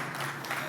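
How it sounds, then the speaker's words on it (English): A short burst of steady audience applause after a startup pitch at a business innovation event, dense clapping filling the room without pause. "A big clap."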